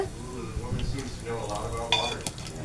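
Whole cinnamon, cloves, cumin and cardamom fry in hot oil, a close crackling sizzle with spoon stirring and small pops, while a voice talks briefly over it.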